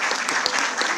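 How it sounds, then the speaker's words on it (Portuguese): Audience applause at an economics conference, a dense steady wash of many hands clapping throughout the short moment, fairly loud and even. "Podem dar umas palmas."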